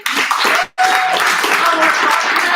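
A startup-pitching event crowd bursts into loud, dense applause, cutting out for a split second before resuming at full strength with some whoops mixed in.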